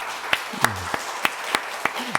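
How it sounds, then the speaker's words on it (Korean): A church congregation at a Sinmunro Church Sunday service claps in a slow, even rhythm, each sharp clap distinct and regularly spaced, with a brief voice murmuring between them. "우리 박수 한번 하겠습니다"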